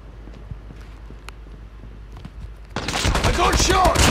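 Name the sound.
gunfire in the video game Call of Duty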